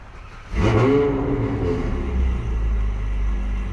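A red Ferrari engine cranks and fires up with a sudden loud burst at the Hakodate parking area, then settles into a deep, rumbling idle close by.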